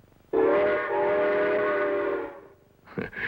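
A voice imitates a train whistle with one long, loud, wailing hoot, followed by two short, quick toots.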